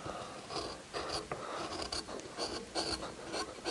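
A master woodcarver cuts a carved wooden bear with a sharp chisel, giving soft, steady scraping and rasping strokes close by, with no talking over them.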